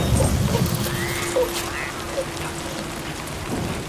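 Rain falls in the video game Death Stranding 2 as a steady, even patter, with faint scattered game sounds over it and no talking.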